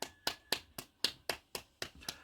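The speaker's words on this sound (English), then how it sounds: "Are they clapping for NHS?" Hands clapping in a slow, even rhythm, about nine sharp separate claps spaced roughly a quarter second apart, close and crisp with short decays and nothing else heard around them.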